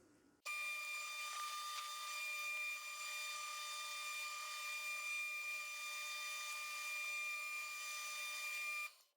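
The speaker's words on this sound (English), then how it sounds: "The holes I'm going to be drilling are just slightly over 5 millimeter" A drill bores roughly 5 mm holes into an AC mains heat bed during an Anycubic Chiron 3D printer rebuild, a steady high whine that runs almost nine seconds without pause before cutting off.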